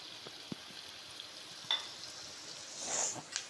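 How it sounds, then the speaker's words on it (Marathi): Turmeric, garam masala and coriander powder fry with chopped tomato in a pan for spicy misal, a soft steady sizzle with a few light clicks and scrapes of stirring. "आता हे आपल्याला चांगलं असं परतायचं आहे"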